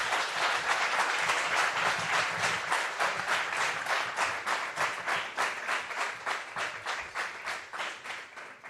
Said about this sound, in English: thank you for your enthusiastic round of applause